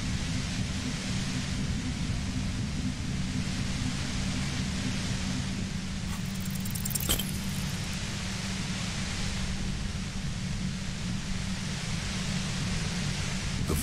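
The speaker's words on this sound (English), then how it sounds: "The violet white noise becomes even more overwhelming closer to the compressor." Loud, overwhelming white noise near a compressor in a video game, a constant dense hiss with a low hum beneath, unbroken throughout apart from a brief crackle midway.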